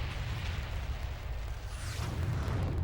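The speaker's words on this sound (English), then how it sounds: "Kevin Sorbo really likes explosions" An explosion sound effect gives a continuous deep, rumbling roar with heavy low-end boom, loud and sustained throughout with a faint rising whistle near the end, and no voices.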